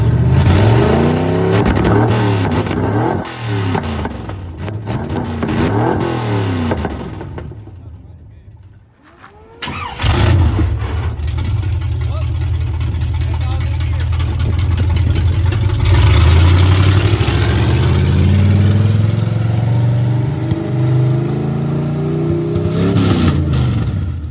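A Hurricane Ian-damaged vehicle's engine revving hard while driven, loud and close, with repeated rising and falling sweeps, a brief dip in the middle, then a long sustained high-revving stretch.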